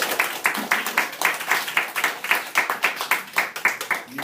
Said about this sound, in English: First of all, a round of applause for each other.